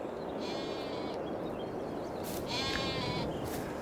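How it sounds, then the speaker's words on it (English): Sheep in a barn in Farming Simulator 22 bleat twice over a steady wash of background noise, with one call early and another, louder call a few seconds later. "Hello, sheep."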